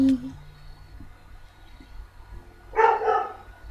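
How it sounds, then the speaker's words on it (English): A dog barks in a short burst of several loud, close yelps near the end, after a stretch of quiet background hum with a faint sound at the start. "Okay, my dog is barking."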